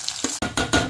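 Potato pieces frying in hot ghee are stirred in quick strokes, each push giving a loud scraping sizzle in a choppy rhythm of four bursts close up.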